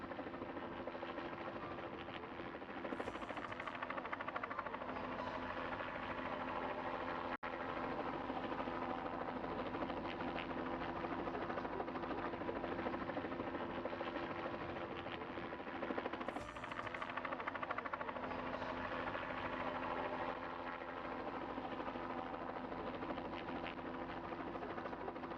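Helicopter flying over the Rocky Mountains on a drop-off run to 2,500 meters, a steady, loud rotor and engine drone throughout with slight swells in intensity, no talking.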